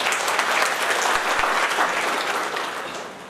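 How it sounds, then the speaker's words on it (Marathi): An audience at a goat farming seminar in Maharashtra claps loudly and continuously for a few seconds, a dense wash of applause that slowly tapers toward the end. "एकदा स्वतःसाठी आपण जोरदार टाळ्या वाजवूया"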